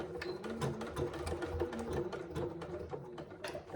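A sewing machine stitches through thick layers of a zip pouch, the needle hammering in a fast, steady mechanical rhythm with slight pauses, heard close and alone without any speech.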